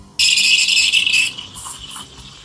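A sharp, hissing high-pitched screech from an espresso machine steam wand aerating milk for a latte starts abruptly and holds for about a second, then softens into a quieter gurgling hiss.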